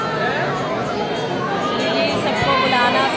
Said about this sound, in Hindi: भीड़ कितनी हो रही है।